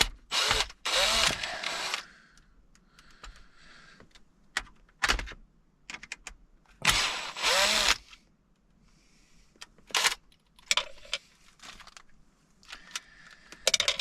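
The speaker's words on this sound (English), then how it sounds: "we have to remove these screws" Screws being removed from the dashboard of a 2012–2015 Hyundai Elantra, heard as close, sharp bursts of ratcheting and clicking with quieter handling noises and pauses between them, no talking.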